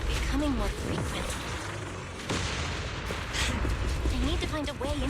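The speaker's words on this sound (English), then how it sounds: "Explosions are becoming more frequent." Booming explosions from cocoon blasts in the video game Zenless Zone Zero, several heavy bursts rumbling under excited speech and game music.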